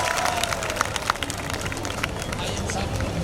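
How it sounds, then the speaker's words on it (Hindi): A crowd at a religious procession (shobha yatra) claps in a steady, rhythmic patter, with chatter and movement noise all through. "जोरदार तालियों स्वागत"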